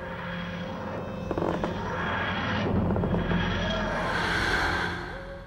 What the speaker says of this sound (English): is the sound of his spaceship.